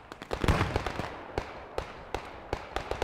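Scattered gunfire from the WWII shooter Post Scriptum, 101st Airborne fighting around Carentan: sharp distant cracks and pops at irregular intervals, a denser burst early on, then isolated shots with no talk.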